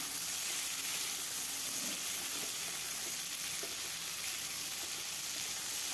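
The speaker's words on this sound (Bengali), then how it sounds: "আলুটা ভাজা হলে তারপর দিয়ে দেব কেটে রাখা কাঁঠালের বীজ। কাঁঠালের বীজটা দিয়েও ভালোভাবে ভেজে নেব।" Potatoes and jackfruit seeds fry in a pan, giving an even, continuous hissing sizzle close by with faint stirring underneath and no voices.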